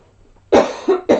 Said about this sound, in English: everybody that knows me knows that I cough when I talk a lot